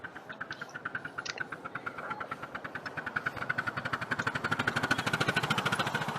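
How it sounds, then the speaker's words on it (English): A small green miniature railway steam engine, coal-fired, chuffs past at close range, its rapid regular exhaust beats growing louder and quicker over several seconds. "There's that little green engine coming past us again."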